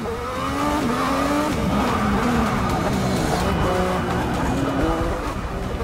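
A race car roars loudly through a Grand Prix race in Forza Motorsport 6, its engine pitch climbing and dropping in continuous revving sweeps with tire noise underneath.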